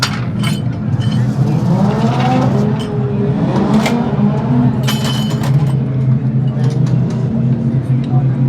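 Limited sprintcar engine at a West Australian speedway title meeting, a loud continuous rough engine roar with rising rev sweeps, heard close while people talk over it.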